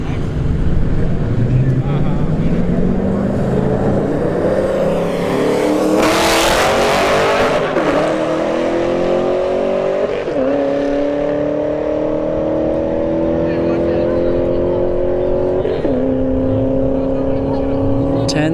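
A Dodge Charger Scat Pack launches down the drag strip with a loud, climbing engine note, pausing briefly between upshifts as the pitch rises again, while a commentator speaks over it.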